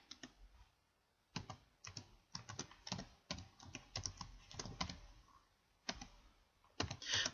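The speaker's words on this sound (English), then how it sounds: "I'm going to type this in so I can find it." Close typing on a computer keyboard, with quick clusters of crisp key clicks separated by short pauses and a final burst of keystrokes, with no voices.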